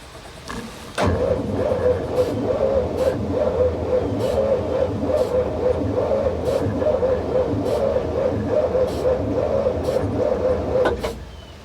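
The 350 engine of an abandoned 1955 GMC with a Hydra-Matic transmission cranks steadily for about ten seconds without catching, a close, rhythmic starter churn that cuts off abruptly.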